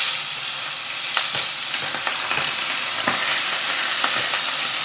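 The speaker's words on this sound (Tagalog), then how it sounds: "Medyo pipirituhin lang natin to." Tuna frying in hot oil gives a steady, dense sizzle with scattered sharp crackles and pops from spattering fat, continuous and close with no voices.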